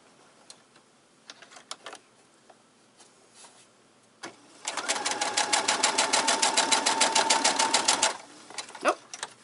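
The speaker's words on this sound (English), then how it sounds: "Goes back to the machine. And we are just going to stitch that down." A sewing machine stitching a four-patch quilt block gives a few scattered taps, then runs in a steady, rapid, loud stitching rhythm for several seconds before stopping.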